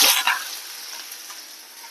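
Chopped onion hitting a hot pan of oil for a bean stir-fry, with a loud initial sizzle that quickly settles into a steady, softer frying hiss, alone without talk.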